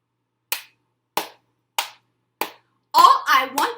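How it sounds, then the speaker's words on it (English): Four single hand claps at an even, slow rhythm, crisp and close, followed by a person beginning to speak. "I'm going to clap."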